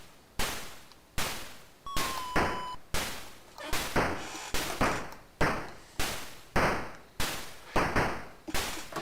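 Repeated laser-like blasts in the Astrosmash arcade game, a steady series of sharp attacks each fading out, about a dozen in a row with a brief tonal sweep early on.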